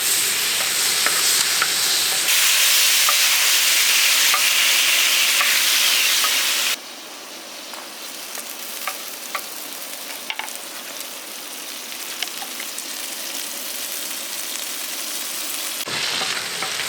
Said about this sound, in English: now we've got the meat on here and it's cooking